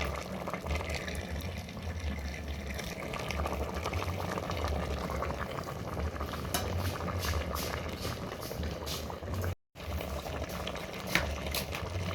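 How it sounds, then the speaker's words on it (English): Stew bubbling steadily in a pot over an open fire in an African village kitchen, a continuous close simmer with a brief cut partway through. "Our stew is here cooking well, please."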